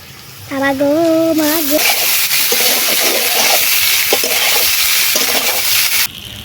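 Boiled pasta goes into a hot pan of fried vegetables and is stirred, setting off a loud, steady sizzle and hiss with scraping stirring strokes, preceded by a short tonal sound.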